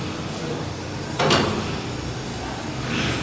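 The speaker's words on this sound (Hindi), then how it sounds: "ये दरवाज़ा खुद ब खुद खुल गया, खुद ब खुद खुल रहा है।" A house door swings open, a brief sliding scrape and rumble midway through, set against quiet room noise with a faint later rustle.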